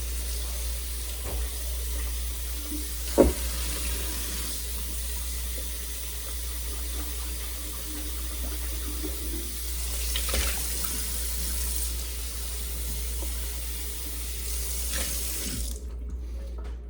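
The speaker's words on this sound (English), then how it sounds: "And then I just kind of rinse this thing out some." Steady rush of a running tap with water splashing into a sink, a few clinks and knocks of a Chemex coffee maker being rinsed out, continuous and close.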